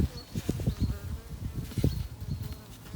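Honeybees buzzing at a hive during a varroa treatment, a close, dense drone of many bees with fluttering wingbeats, some faint background sounds.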